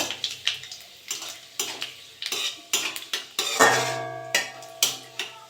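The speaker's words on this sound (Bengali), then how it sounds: "তেলটা গরম হয়ে গেছে আমি নিম পাতা আর পাঁচফোড়ন দিয়ে দেবো" Panch phoron and neem leaves fry in hot mustard oil, heard as a series of sharp metallic scrapes and clinks from stirring in the pan, evenly spaced, over a faint sizzle.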